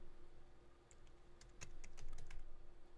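Fingers type on a computer keyboard in a quiet room, a short run of light, close key clicks, sparse at first, then a quicker cluster of taps, soft and alone over faint background hum.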